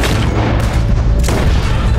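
Gunshots ring out in Red Dead Redemption 2, two loud booming blasts about a second apart, each with a heavy low rumble that lingers.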